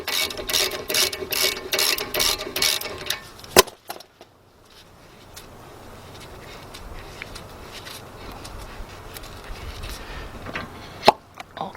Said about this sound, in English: let's remove this bolt / slider, because this bolt is also a slider which the caliper slides on